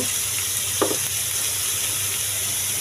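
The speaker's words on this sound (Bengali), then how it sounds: "আবার একটু নাড়াচাড়া করে নিচ্ছি" Food fries in a pan with a steady, close sizzle while a spoon stirs it, giving one brief scrape near the start, with no talking.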